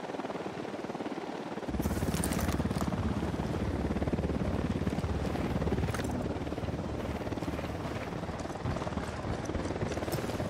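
A helicopter approaches in the video game Ghost Recon Wildlands: its rotor drone swells in at about two seconds, then holds as a loud, steady, rumbling whir through to the end with no voices.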